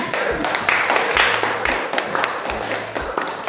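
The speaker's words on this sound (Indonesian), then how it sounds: "Tepuk tangan" Applause from a small group during a classroom presentation, a scattered burst of clapping, moderately loud and fairly close, running steadily for a few seconds with no one talking.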